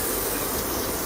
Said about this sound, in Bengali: মাংস দিয়ে কিছুক্ষণ ফ্রাই করবো এটাকে